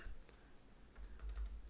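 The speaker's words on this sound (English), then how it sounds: "I'm just going to start typing." Quiet typing on a computer keyboard, a few soft scattered key clicks over low background hum with no speech, as someone types a folder path on a Windows PC.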